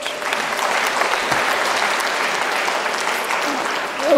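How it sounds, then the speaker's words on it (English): Seminar attendees give themselves loud, sustained applause, a dense and even roar of clapping from a close crowd that holds steady for a few seconds. "maybe give yourself a loud applaud"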